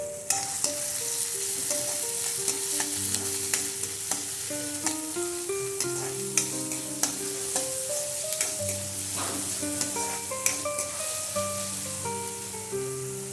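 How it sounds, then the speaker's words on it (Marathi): Chopped onion sautéing in oil in a kadhai (wok) with a continuous sizzle and regular stirring taps, while soft background music plays throughout. "कढईमध्ये एक मोठा चमचा मी तेल घातलेला आहे त्याच्यामध्ये एक कांदा बारीक चिरून घातला तर तो कांदा आपण आता परतवून घेऊया"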